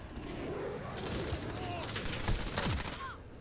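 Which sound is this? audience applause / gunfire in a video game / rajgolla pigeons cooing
gunfire in a video game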